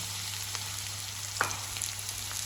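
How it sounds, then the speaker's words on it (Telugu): Bitter gourd pieces frying in hot oil make a steady, fairly faint sizzle, with one brief knock or stir near the middle. "ఆయిల్ అయితే చక్కగా వేడైపోయింది ఇందులోకి మనం ఈ ముక్కలు యాడ్ చేసుకుందాం"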